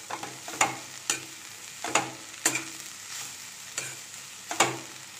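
Cabbage poriyal being stirred with grated coconut in a pan, with a spoon scraping and tossing the mix in about six distinct strokes over a soft, steady sizzle, close and fairly loud, with no talking.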